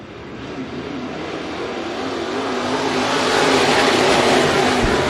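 IMCA Modified dirt track race cars at Bakersfield Speedway roar under green, a continuous loud engine drone that gradually grows louder and nearer over the whole stretch.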